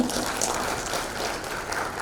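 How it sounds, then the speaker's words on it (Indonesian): An audience at a public plenary meeting of a regional election commission claps for the regional secretary, a dense, even wash of applause that holds steady and loud throughout. "Boleh kita berikan tepuk tangan yang paling meriah?"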